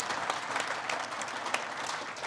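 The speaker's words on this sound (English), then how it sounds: "Round of applause for everyone." Audience applause at a brewing industry talk on diversity and inclusion, a short steady burst of many hands clapping close by with no voices over it.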